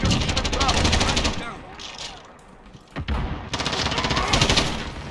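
Heavy automatic fire in Call of Duty multiplayer, with a light machine gun build hammering out loud rapid bursts, a short lull with a single thud, then another sustained volley, with voices talking over it.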